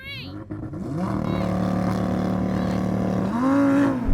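A Lamborghini Huracán Performante and a Porsche 911 Turbo S launch side by side in a drag race, with a loud, sustained engine roar that climbs in pitch through the gears. Someone talks over it.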